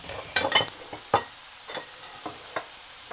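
Chicken and vegetables being stir-fried in a pan: a series of sharp utensil scrapes and clacks against the cookware, irregularly spaced, over a soft sizzle, close and clear with no talking.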